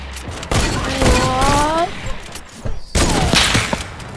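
Rapid bursts of gunfire ring out in a Fortnite match, loud close shots in two clusters, with players talking over the action.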